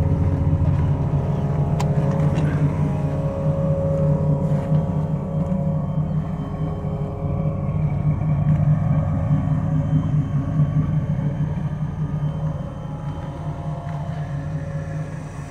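A deep 383 stroker V8 in a 1984 Camaro rumbles at a steady idle, close and loud, its low throbbing drone continuing without a break.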